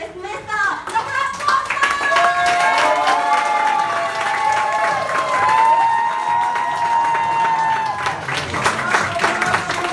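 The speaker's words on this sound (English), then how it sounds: "Let's clap your hand, please" An audience at a Successmore Singapore business presentation claps and cheers steadily and loudly, dense hand clapping filling the hall, with a raised voice calling out over the crowd.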